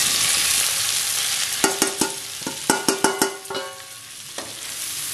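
Marinated Gobindobhog rice hits a hot pan with a sizzle, followed by a string of sharp scraping clicks from stirring, close and clear with no talk.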